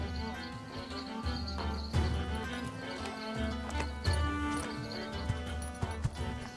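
Relay horse hooves in the Age of Empires IV Mongol campaign clip-clop steadily at moderate volume, with occasional bird chirps and a soft tonal bed behind them.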